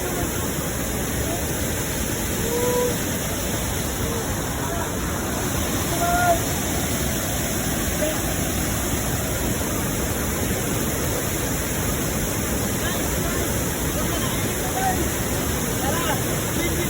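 Flowing water from the third lake at Joffre Lakes, a steady broadband rush like a nearby stream or falls, continuous and fairly loud throughout with no break.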